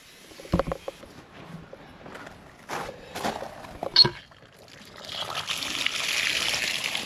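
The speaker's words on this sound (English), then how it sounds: "All right, let's turn the water on." Household water supply turned on during a plumbing leak check, flowing and trickling through the pipes with a steady broadband hiss that builds over the last couple of seconds, after a few scattered knocks and clunks.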